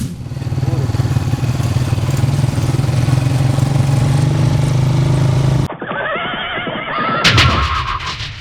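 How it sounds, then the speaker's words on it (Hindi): A motorcycle engine drones steadily and close for several seconds as it approaches between fields, then cuts off, followed by a short burst of other noise. "आने वाला यह मोटरसाइकिल सवार बेचारा इन खेतों के दरमियान चला आ रहा था।"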